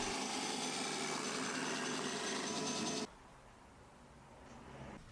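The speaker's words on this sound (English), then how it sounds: "and I did that at the disc sander" A disc sander rounds over the top edges of a wooden backrest for a small cat or dog sofa, a loud steady motor whine with broadband grinding that cuts off abruptly after three seconds, leaving a quiet hum.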